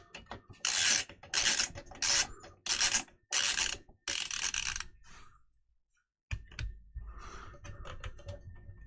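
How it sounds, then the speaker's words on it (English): Screws being backed out of the rear panel of a Minisforum MS-S1 MAX mini PC case, heard as a series of loud, close ratcheting bursts of mechanical clicking separated by short pauses, then quieter handling noise. "you just take out these two screws"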